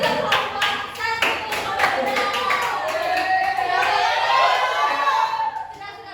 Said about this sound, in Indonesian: Beri tepuk tangan juga kelompok 1.